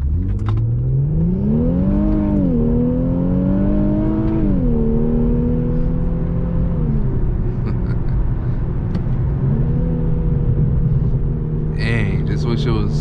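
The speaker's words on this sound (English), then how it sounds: "You can hear the engine" Infiniti Q50 Red Sport engine pulling hard from the driver's seat, its steady drone rising and falling in pitch through gear changes, loud and continuous, with a brief spike of higher noise near the end.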